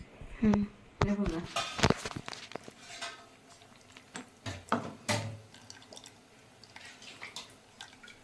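Water pours and trickles through a strainer into Malvani-style crab curry gravy amid clinks of utensils against a pot, with scattered drips and knocks close by.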